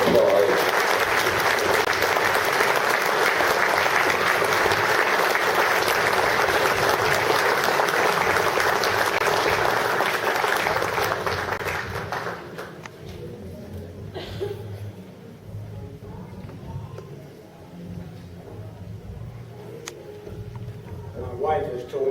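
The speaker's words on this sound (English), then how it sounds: "Would you give him a warm round of applause?" A warm round of applause for Colonel William Gavan at a reunion banquet, loud, dense clapping for about twelve seconds that then dies away into quieter room noise with a few scattered sounds.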